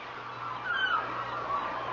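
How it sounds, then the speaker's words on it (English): A flock of flamingos squawking as a radio drama sound effect, a dense continuous chorus of nasal calls over a low hum, fairly loud with no voices. "The flamingos. The birds. They disappeared as suddenly as they came."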